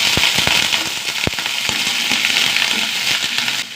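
Sliced onions fry loudly in a pan with dried red chilies, curry leaves and green chilies, giving a dense sizzle peppered with sharp crackling pops, close and steady before easing slightly at the end.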